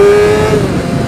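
A Kawasaki ZX6R motorcycle with a loud exhaust flies past, a close, intense engine howl whose pitch dips slightly as it goes by, heard alone for about a second.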